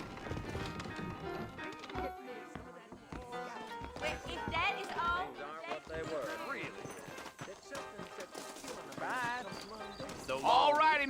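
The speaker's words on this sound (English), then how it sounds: "I got the horses saddled up and ready out front." Horses in the game Red Dead Redemption clip-clop and whinny while western music plays and characters talk over the steady hoofbeats.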